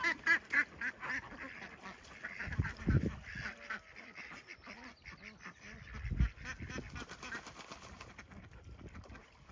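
Ducks quack and geese honk near a small backyard duck pond, scattered calls rising and falling over light background noise and some talk.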